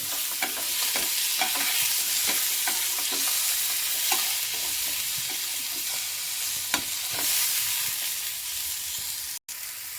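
Vegetables being stirred and softened in a pan for Andhra-style pachadi: a steady sizzle with repeated scraping stir strokes, close and alone with no talk.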